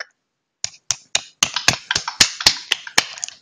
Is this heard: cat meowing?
no